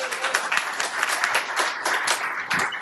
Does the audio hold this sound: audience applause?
yes